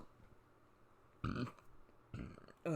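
Two short, low, throaty bursts from a person with acid reflux and hiccups, a burp-like gulp each time, close to the microphone in a quiet room with no talk.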